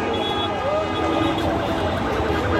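A mobile ambulance siren wails through a crowded protest square, its rising and falling tone sweeping over dense crowd noise and traffic, fairly loud and close.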